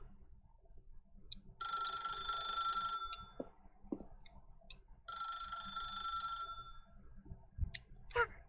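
A telephone rings in a Japanese mystery game where the player follows a narrator's instructions: two long, steady electronic ring bursts separated by a pause, with faint clicks and low background noise between them.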